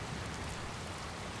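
Steady rain pours in a Dragon Quest Builders 2 desert area while riding a minecart, a dense, even hiss of falling water that fills the whole moment without pause.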